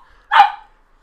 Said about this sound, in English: He's barking at an ugly dog named Amari.